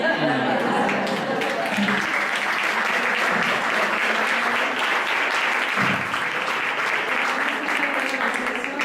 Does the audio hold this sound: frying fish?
no